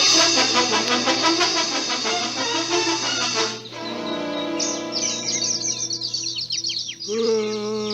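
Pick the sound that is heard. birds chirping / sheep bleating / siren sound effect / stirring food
birds chirping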